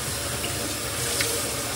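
Kitchen tap running steadily, a close, loud and continuous rush of water into a sink with no talk over it.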